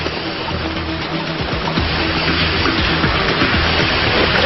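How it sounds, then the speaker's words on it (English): A small waterfall in a mountain stream in Norway's snowy Nordland mountains, a steady, rushing water noise heard from a short way off, broad and unbroken, with no voices over it. "I can hear the sound of a small waterfall ahead."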